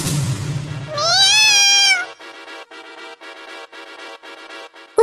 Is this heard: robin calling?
no